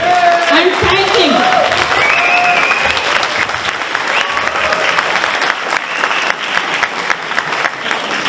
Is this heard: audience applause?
yes